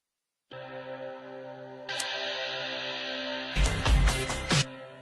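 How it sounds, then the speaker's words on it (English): A guitar riff plays back in a recording session with EQ, chorus and reverb applied. Sustained, layered electric tones build and thicken, with denser strummed bursts toward the end, and no one speaks over it. "That is the other guitar riff."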